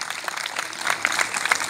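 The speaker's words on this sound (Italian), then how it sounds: "Facciamoglielo l'applauso a loro" Applause rises from an outdoor crowd at a town patronal festival in Cernusco for the local band, a soft but steady patter of clapping that grows a little denser toward the end.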